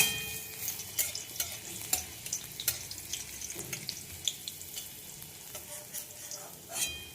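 Dried red chillies and garlic crackle in hot oil for tempering a red amaranth leaf dish, with a steady low sizzle punctuated by sharp pops and the scrape of stirring, fairly quiet throughout.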